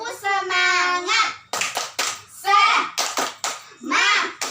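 Schoolchildren in an Indonesian elementary classroom chant and clap through a rhythmic 'tepuk semangat' routine, sharp bursts of group claps alternating with sung chanting voices, close and lively.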